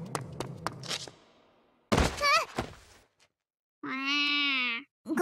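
A black cat in an old castle meows once, clear and close, in a drawn-out tonal cry, following some soft thumps and a short vocal sound.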